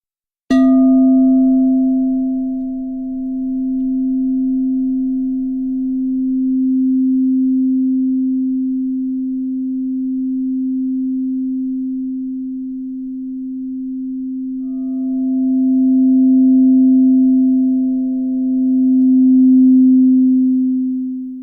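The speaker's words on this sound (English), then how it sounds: "When you listen to the purity of that crystal bowl, you know it's a pure note of sea." A crystal singing bowl rings a pure, sustained tone that holds steady and loud for over twenty seconds, swelling slightly in places, with no talking.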